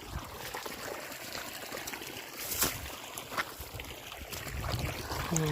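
Water streams out of a burst pipe on a farm in a steady, hissing rush, with a brief louder splash partway through and a slight swell toward the end.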